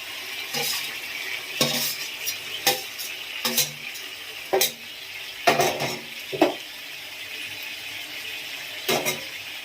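Fried paneer added to a sizzling banana flower curry, with repeated spoon scrapes and clinks against the pan over a continuous close frying sizzle.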